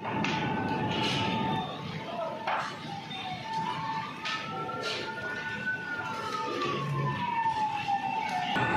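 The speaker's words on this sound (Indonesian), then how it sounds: "namun sejumlah mobil pemadam kebakaran dikerahkan ke lokasi" Fire engine sirens wail at a building fire in Jakarta, a sustained rising and falling tone sweeping across the whole stretch, fairly loud with traffic noise and some talk beneath.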